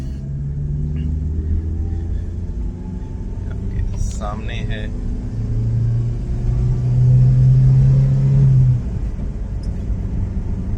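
A 2005 Mitsubishi Lancer 1.6 manual rumbles through a pickup test. The engine note rises toward the end while someone talks over it from inside the car.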